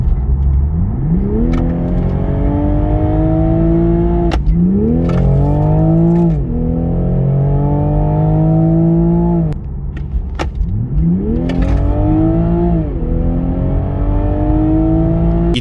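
A Toyota GR Supra 3.0 twin-scroll turbo accelerates hard in sport mode through three rising gear pulls. Each pull ends with a quick shift, and the engine is loud and close.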